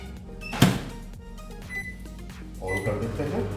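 A microwave oven is switched on to grill fish, with a sharp click of the door or button, then beeps and a low running hum under speech nearby.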